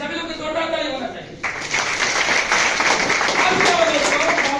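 Crowd at a seminar breaking into loud, sustained applause that starts suddenly after someone speaks and then carries on steadily as a dense wash of clapping.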